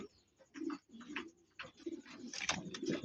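Racing pigeons coo in a series of soft, throaty calls at close range, with a brief pause early and the calls growing busier and louder toward the end.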